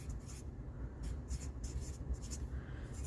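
A Sharpie marker writing on a Post-it pad: close, soft squeaky strokes in short bursts with brief pauses between them, steady and alone without talk.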